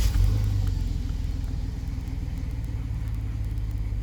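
A 2004 Chevrolet Silverado pickup's engine rumbles steadily from inside the cab, a deep low throb that starts slightly louder and settles into an even, subdued idle-to-drive drone.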